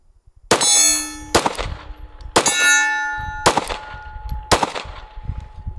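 A Springfield Hellcat Pro pistol's shots strike a small steel swinger target, producing four loud ringing clangs that sustain and decay between rapid shots, close and clear, with no talk.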